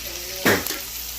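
Rice frying for Jamaican black fried rice gives a brief sharp sizzle burst, like a stir in the hot pan, over a faint steady background hiss.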